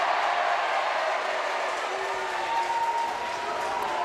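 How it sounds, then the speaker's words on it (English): A stadium crowd at a Leigh Leopards rugby league match boos in a sustained, steady roar heard from a distance, with no break and no voices over it. "There's a shock. Everybody booing."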